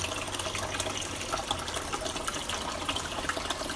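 Water gushes steadily back into a cleaned aquarium exhibit tank, a constant loud rushing and bubbling wash that runs without a break.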